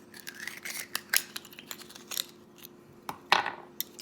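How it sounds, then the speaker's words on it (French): Oyster being shucked with a knife: quiet scraping and scratching of the blade against shell, with a few sharper clicks and one stronger rasping scrape near the end, close up and without talk. "Puis après ça, on fait le tour par en haut pour être sûr de ne pas briser notre huître."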